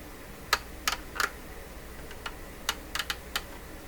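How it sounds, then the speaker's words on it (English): USB microscope moved up and down on its stand, giving a handful of sharp, quiet clicks and creaks in irregular bursts, some paired, against a faint background hum with no talk. "that clicking sound or creaking sound, is me moving the microscope up and down on the stand"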